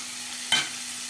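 Ground spice paste hitting hot margarine in a wok, a brief bright sizzle and stir burst mid-clip over a steady low frying hiss, close and alone.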